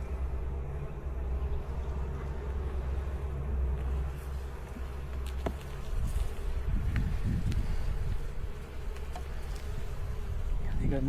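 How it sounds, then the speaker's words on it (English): Honey bees swarming around an open hive during an inspection on the Mississippi coast, a dense steady buzz with several close fly-bys and a few sharp clicks of handling, growing louder toward the end. "Bee with some pollen."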